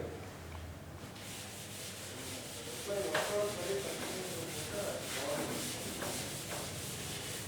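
Steady dry rubbing of a duster wiping writing off a classroom board, a continuous scrubbing texture with rhythmic strokes, fairly quiet and close, with no speech over it.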